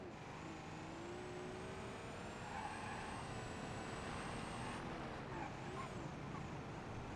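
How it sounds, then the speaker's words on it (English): A diesel truck engine in a video game drones steadily at a low, even level, with rising and falling whining tones over the rumble and no talking. "also, this is a diesel engine"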